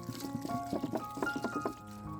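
Cold water splashes and pours in short bursts over cooked tortellini, close by and fairly quiet, with a faint background hum.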